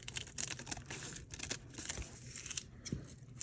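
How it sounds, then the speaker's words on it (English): Scissors trimming a fabric tag, a soft continuous crinkling and snipping of material held close, quiet and steady with a few sharper cuts. "take my scissors and trim a little off this"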